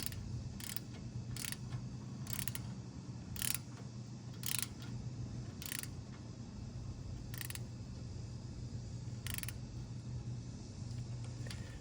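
A torque wrench set to 40 foot-pounds tightening bolts during an aluminum boat and trailer rebuild, giving faint, evenly spaced sharp clicks about every second over a low steady hum.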